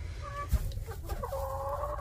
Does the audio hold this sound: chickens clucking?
yes